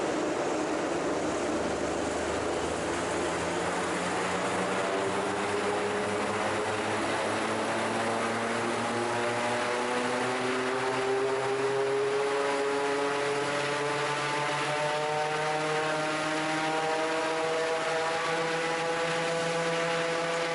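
Prototype Raptor aircraft engine spinning its propeller at about 3,600 RPM with a bit of pitch, a loud steady drone with rising harmonic whine that climbs gradually as revs build, continuous and alone throughout.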